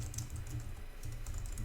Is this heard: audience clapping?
no